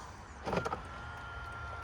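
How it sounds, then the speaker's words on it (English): Motorized side mirrors on a Mercedes CLK W209 fold in after the car is locked, a short electric whir lasting under half a second over quiet background hum. "So when you lock the car, like so, the mirrors will fold in."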